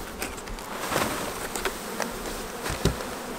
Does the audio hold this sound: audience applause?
no